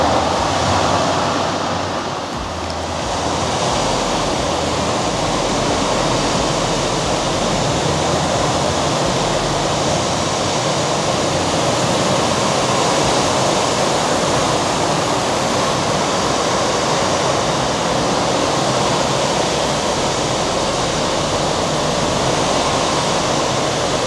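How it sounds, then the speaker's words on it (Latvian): Steady broadband wash of splashing waves from an immersive mirrored installation in Dubai, a continuous loud surf-like roar with no pauses, heard alone without voices. "Sajūt tiešām, ka tev viļņi skalotos virsū"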